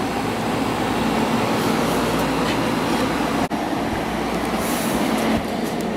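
A Hampton Bay 5,100 BTU air conditioner runs on low speed with its compressor going, a steady, close, even whooshing hum with one brief dip and no talking.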